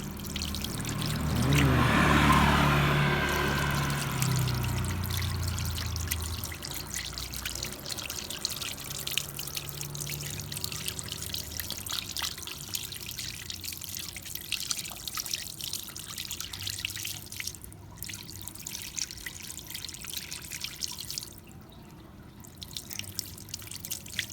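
Liquid is poured and trickled over the oil filter spring of a Honda Click150i scooter as it is washed. A louder splashing burst comes first, then a steady, softer trickle with dribbles and faint handling noises, briefly quieting near the end.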